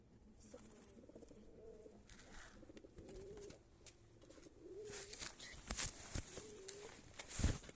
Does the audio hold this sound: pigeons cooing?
yes